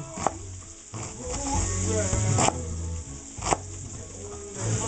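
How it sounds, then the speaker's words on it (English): A spoon stirs black-eyed peas bubbling and sizzling in a pot, giving a steady close frying hiss broken by a few sharp scrapes and knocks against the pot. "did that just in time because I need to stir my food"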